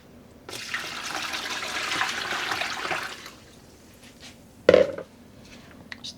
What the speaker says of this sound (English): And I'm just adding in the water.